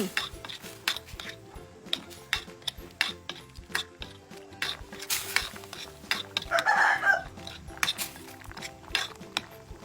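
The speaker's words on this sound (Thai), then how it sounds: "คนคลุกเคล้าส่วนผสมให้เข้ากัน" A spoon scrapes and clinks against a pot while village chicken curry with bamboo shoots, seasoned with sugar and fish sauce, is stirred, giving irregular metallic knocks and scrapes that repeat throughout with no one talking.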